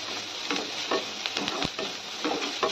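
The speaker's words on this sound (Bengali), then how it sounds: "হালকা ফ্রাই করে নিলাম।" Vegetables frying in a kadai are stirred with repeated scraping strokes over a steady close sizzle, with no talking.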